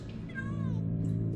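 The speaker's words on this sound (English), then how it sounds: "cats?" A single short cat meow from Minecraft: Story Mode, rising then falling, heard over a steady low hum of game ambience with no talking.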